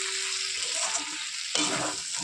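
Small fish and eggplant fry in plenty of mustard oil, giving a steady close sizzle and crackle with occasional stirring scrapes that swell toward the end.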